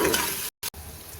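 A kilo of camel meat sizzling with onion and julienned garlic in a karahi: a loud, even frying hiss, broken by a brief silent gap partway through, with no talking.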